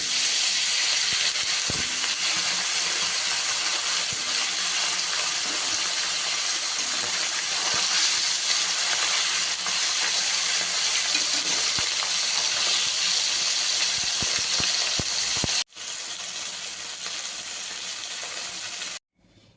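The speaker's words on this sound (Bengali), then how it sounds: "বাকি মাছগুলো ভেজে নেব।" Bhola fish fry in hot oil with a steady, loud hiss and sizzle that runs unbroken for nearly twenty seconds, dropping out briefly before resuming. No voices are heard.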